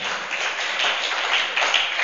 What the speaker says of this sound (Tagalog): Palakpak uli sa Panginoon.